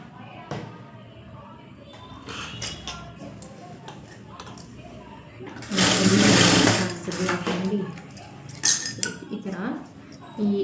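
A sewing machine stitches a hem strip during tailoring work, running in bursts with a loud sustained stretch mid-clip, interspersed with small clinks and ticks of handling.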